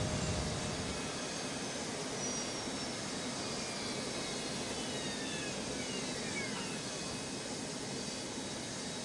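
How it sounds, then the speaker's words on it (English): An airliner takes off from runway 1 at Reagan National, heard as a steady, broad jet-engine roar that holds at constant loudness throughout, with faint whining tones shifting above it. "Cleared for takeoff runway 1"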